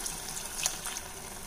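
Boiled chickpea cooking water is poured into a pan for channa masala, giving a steady, close liquid splashing and trickling sound with a small bright splash partway through.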